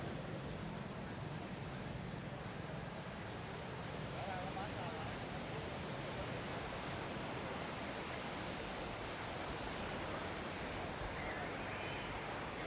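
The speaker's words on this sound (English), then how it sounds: "Let's check out the beach." Ocean surf at My Khe Beach in Da Nang, a steady, broad wash of breaking waves rolling continuously without pause, fairly loud and close, with no distinct voices standing out.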